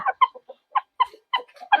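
A brooding hen that has been sitting on eggs clucks in a quick series of short, close, distinct calls with brief gaps between them.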